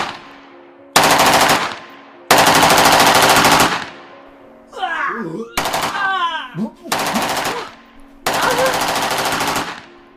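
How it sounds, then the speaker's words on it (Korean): An AK-47 assault rifle fires several long, loud full-auto bursts inside a room, with short gaps between them and screams and shouting heard in the pauses. "배낭에 숨겨 들어왔던 AK-47 기관총을 꺼내 들어 방 안에 난사했습니다"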